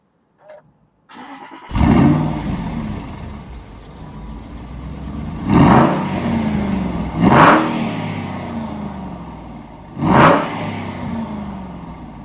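A 2009 Aston Martin Vantage with a 6-speed starts up, then its engine revs in three loud, close bursts over a rumbling idle, with no talking.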